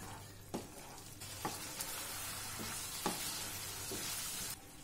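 Ground masala frying in a kadai, a dense close sizzle broken by several sharp spoon scrapes and taps against the metal.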